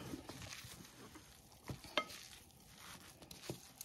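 Vegetables simmering in a pan are stirred, with soft scraping strokes and faint sizzling crackles near the microphone, quiet and alone.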